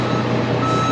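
A truck idles while warming up at a barn demolition site, its steady engine rumble continuous under a loud, persistent reversing beep, close and without pause.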